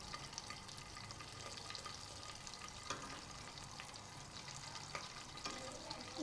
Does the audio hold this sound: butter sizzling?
yes